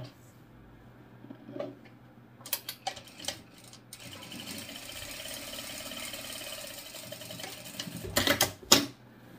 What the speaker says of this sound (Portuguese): E aqui a gente passa uma costurinha reta fechando esse fundo.